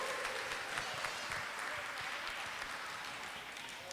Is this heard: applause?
yes